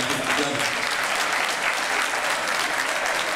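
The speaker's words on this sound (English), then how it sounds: "give your man a round of applause for putting something like this together" A room full of men at a city mayor's breakfast meeting bursts into dense, steady applause for the event's organiser, loud and continuous from start to finish.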